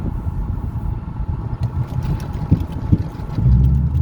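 Low, steady exhaust drone of a 2014 Ford Mustang GT with a fresh full exhaust replacement and unclamped exhausts, heard from inside the cabin, rumbling continuously with a couple of brief thumps and a swell near the end.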